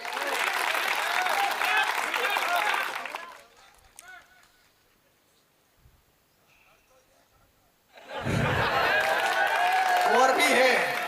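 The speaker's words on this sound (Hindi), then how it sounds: "जरा एक बार ताली वाली बजाइए।" Hindi comedy poetry gathering (hasya kavi sammelan) audience breaking into loud, dense applause, a long burst up front, a near-quiet gap, then a second strong wave of clapping with cheers.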